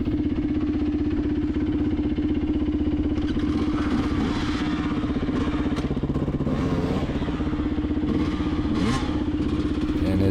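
Enduro dirt bike engine on rough hard-enduro terrain in Jawbone, a loud, steady, close buzzing drone with clattering and brief surges of throttle throughout.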